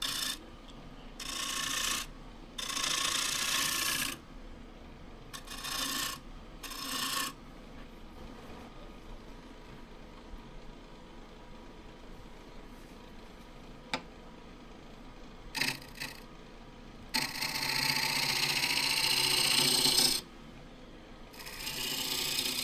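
A woodturning tool cuts a tenon on a firewood bowl blank spinning on a lathe, giving repeated scraping, slightly grabby bursts of rasping noise separated by quieter pauses, with a long harsh pass near the end.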